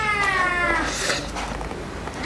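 A kitten meows for more food at a home meal of clam noodles, a single drawn-out, fairly close cry that fades into soft room noise.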